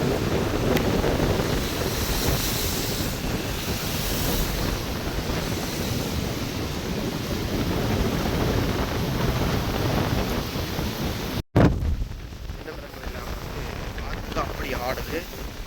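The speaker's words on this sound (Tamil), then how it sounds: "இந்த கடல் காற்றால் இவ்வளோ அலையல் வருதுன்னு சொல்லி, இந்த அலையல் வந்து இப்படி வந்து உள்ளே வருது" Storm-driven sea waves surging onto the shore at Jaffna in strong wind, a continuous loud roar of surf with wind buffeting the microphone and a sudden thump near the end.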